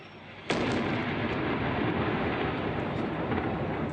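An airstrike explosion erupts suddenly after a quiet moment, a loud close blast followed by a sustained roaring, rumbling aftermath that stays dense and powerful to the end.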